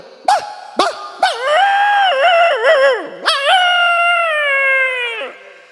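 A human voice imitates a distressed dog, starting with a few sharp yelps and then sliding into a long, wavering whine that fades.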